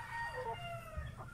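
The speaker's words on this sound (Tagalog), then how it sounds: "Ito yung manok na malambing." A Black Australorp or Rhode Island Red hen gives a short, faint cluck and a throaty call on a farm, with low background rumble. It is heard close by.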